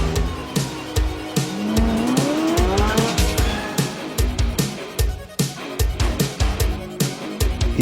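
Cars racing in a chase, engines revving loudly with long rising tire squeals and skids, plus repeated sharp thumps throughout, close and intense.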